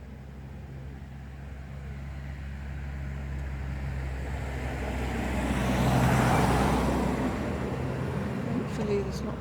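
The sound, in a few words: road traffic passing through a village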